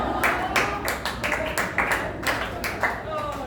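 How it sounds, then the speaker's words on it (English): Scattered clapping from a comedy club audience, uneven bursts of hand claps running under a voice throughout, moderately loud and close. "So the people clapping over there"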